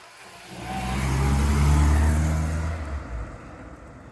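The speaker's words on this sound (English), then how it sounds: "There it goes, my old car." A Bedford van's engine rises as it pulls away, swelling to a loud, low rumble before fading into the distance over several seconds.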